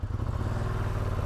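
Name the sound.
Ducati Streetfighter V2 stock exhaust revving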